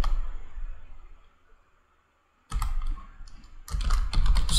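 Code being typed on a computer keyboard, with quick clusters of clacking keys near the mic. The keys stop for a silent gap in the middle, then come back in louder bursts.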